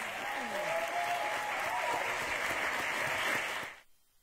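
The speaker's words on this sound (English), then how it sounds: "Let's give everyone here a round of applause" Sustained applause from an audience thanking the Q&A participants and everyone on stage, a dense, even roar of many hands clapping that holds steady for several seconds and then cuts off abruptly.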